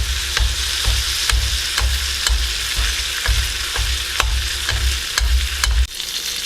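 Venison searing in butter in a hot pan, a steady loud sizzle with regular low thumps and clicks from basting or handling roughly every second, close and continuous with no talk.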